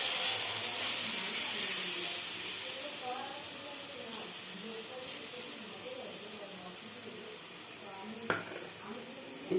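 Lentils (dal) dropped into hot oil send up a steady, close frying sizzle and hiss that eases slightly as it goes, with a brief sharp clink near the end.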